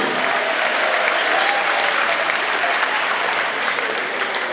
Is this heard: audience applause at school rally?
yes